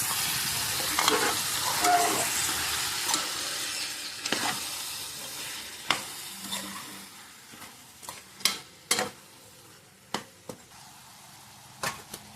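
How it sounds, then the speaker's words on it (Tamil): Mutton sautéing in a pan with a constant frying sizzle and hiss, broken by a series of scraping stirs and clacks of the utensil that grow sharper and more frequent. "மட்டனை இதில் போட்டு நல்லா வதக்கி விடுவோம்."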